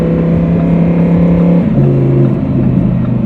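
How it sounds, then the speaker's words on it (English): A 2020 Lamborghini Huracan Evo downshifting, a loud steady engine drone that drops and shifts pitch partway through, heard up close from inside the car. "I can downshift this car all day."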